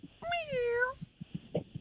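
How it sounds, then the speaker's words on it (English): A single drawn-out cat meow, fairly close and clear, rising then falling, followed by a few soft thumps and faint background noise. "A cat."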